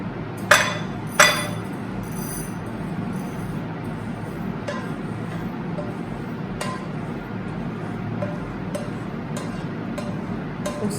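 Roasted sesame seeds being moved from a pan into a bowl, with two sharp clinks of metal on the bowl early on, then light, sparse taps and scraping over a steady background hiss.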